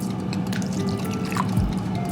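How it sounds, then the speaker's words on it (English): Water poured into a bowl of thick burger batter made with barbecue sauce, Thai green curry paste and pesto, a steady close trickle and drip with a brief splash near the end, no voices. "Once you have this, add water."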